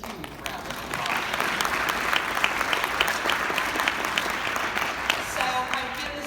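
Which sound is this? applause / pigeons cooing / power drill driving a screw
applause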